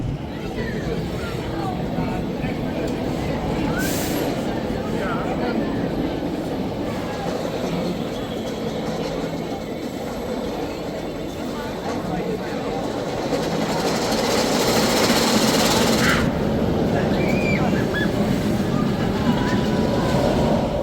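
Steady loud rumble of an RMC roller coaster on the thrill side at Walibi Holland, a continuous rushing roar with rattling track noise that swells toward the end, with voices mixed in.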